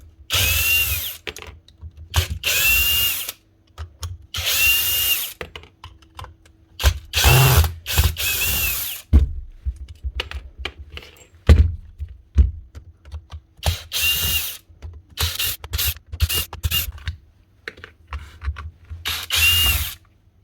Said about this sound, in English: making that whirling noise, if the brushes are making bad contact and the armature's going bad